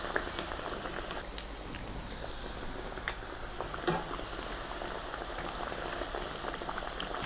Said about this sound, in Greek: Τηγανίζουμε σε μεσαία θερμοκρασία,